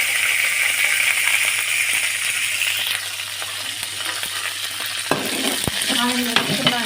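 Curry leaves sizzling in hot oil for a ridge gourd dal tempering: a loud, continuous frying hiss close by, with a few sharp metallic clinks and stirring scrapes toward the end.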